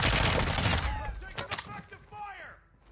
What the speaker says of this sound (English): Is that bots all shooting us?